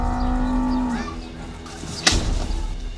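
A cow squaring off against a ram lets out one long, loud moo that fades out, followed by a short sharp impact knock, all over low outdoor background noise.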